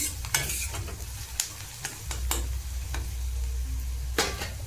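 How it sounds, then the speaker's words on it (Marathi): Chopped onions sautéed in oil for Kolhapuri misal, a spatula stirring and scraping the pan in irregular close strokes over a continuous soft sizzle. "छान असं परतून घ्यायचं आहे कांद्याला पण एक दोन मिनिट परतून घ्यायचं आहे"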